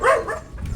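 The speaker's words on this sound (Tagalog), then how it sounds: "Ano yan, ingay yung aso?" A single short dog bark, close and fairly loud, followed by a brief softer yelp.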